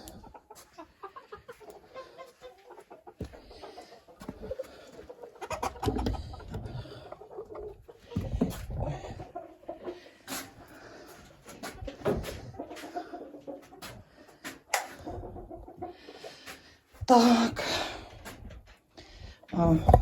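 Hens cluck softly in a henhouse, with scattered close clucks, rustling and scratching around someone talking to them.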